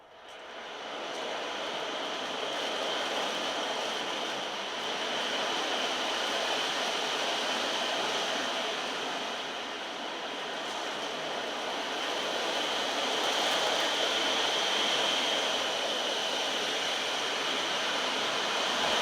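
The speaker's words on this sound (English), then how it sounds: "When I tilt and roll this drum, it mimics the sound of waves or perhaps rain." An ocean drum tilted and rolled gives a steady, broad wash like surf or rain, swelling and easing gently in waves over a continuous hiss with no voices.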